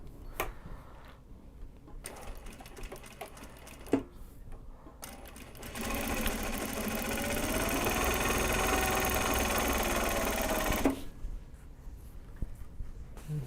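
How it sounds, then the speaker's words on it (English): A sewing machine winds a bobbin, its motor rising into a steady, close whir for several seconds after a few short starts and clicks, then stopping. "Need to start the bobbin winding."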